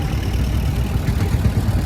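A McCormick crawler tractor engine runs steadily at a steam rally, a dense low mechanical chug heard close and fairly loud without a break.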